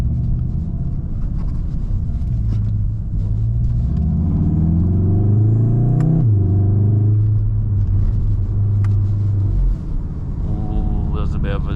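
A VW Golf MK7.5 2.0 TSI rated at 310 hp is driven at night, its engine a steady low drone from inside the cabin that rises and then drops at a late gear change, with someone talking over it.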